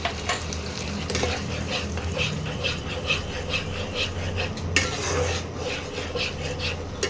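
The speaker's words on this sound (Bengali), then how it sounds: "দিয়ে ভালো করে কষাতে হবে।" Melon seed paste stir-fried in a pan, with loud continuous sizzling and frying under steady scraping and stirring strokes, close up, with no talk.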